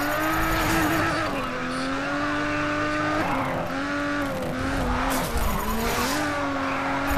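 A race car in the Grid racing game slides through a handbrake turn, its engine droning steadily under prolonged, wavering tire squeal that rises and falls over several seconds, loud and up close.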